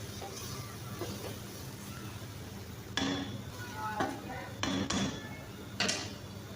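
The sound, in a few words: stirring and mixing kaddu gosht in a pot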